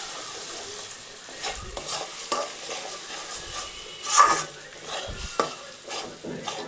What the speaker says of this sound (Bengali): আমাদের এখন কড়াইতে ছোলার ডাল পেস্টটি পড়ে গেছে, তা ভালো করে নাড়িয়ে নেব।